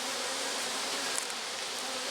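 A dense, steady buzzing of many bees around a hive, close and continuous, with no talking.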